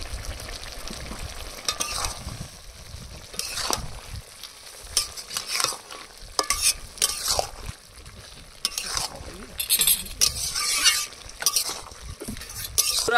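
A village-style potato curry cooking with ground cumin paste, stirred vigorously in a pot: busy irregular scraping and clattering strokes over a constant bubbling, frying hiss, loud and close throughout.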